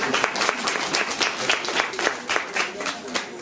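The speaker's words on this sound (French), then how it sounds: "vous pouvez vous asseoir, on les applaudit." Audience clapping at a children's storytelling performance, a dense, lively round of applause with distinct individual claps standing out, fairly close and steady throughout, with some voices mixed in.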